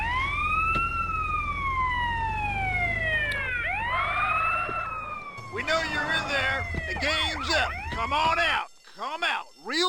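Police sirens wail and yelp in GTA San Andreas, sweeping up and down in pitch, loud and close, later cutting to rapid warbling bursts, with game street noise underneath.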